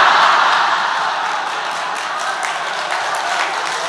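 Audience applause in a church hall, a steady hiss of many hands clapping that starts strong and eases slightly while continuing throughout.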